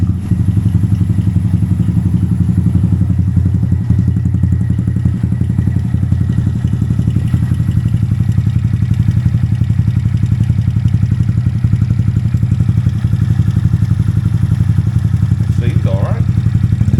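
A small motorcycle engine, a Honda Monkey 125 after tuning, starts and runs at a steady idle throughout, loud and close, with a low continuous rumble and occasional clattering mechanical thumps.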